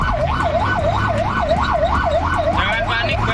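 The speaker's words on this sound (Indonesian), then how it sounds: "Paniknya cewek ini dengar suara sirine damkar lewat, berlari tinggalkan motor di lampu merah." A fire truck siren wails in a loud, rising-and-falling cycle as the truck passes close by at a traffic light, with street noise beneath it.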